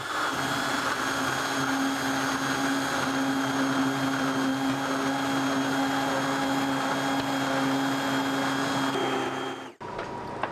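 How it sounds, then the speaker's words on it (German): A blender purees soup with chili, basil and a dollop of cream, a steady loud motor whir running unbroken for nearly ten seconds before it cuts off abruptly. "Dann wird das Ganze schon püriert."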